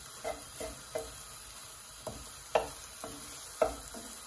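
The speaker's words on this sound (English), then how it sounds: "now the eggs should take anywhere from a minute or 2 to cook" Eggs cooking in a hot pan for shrimp and lobster fried rice give a soft continuous sizzle, broken by about eight sharp scrapes and taps of a utensil stirring at irregular intervals.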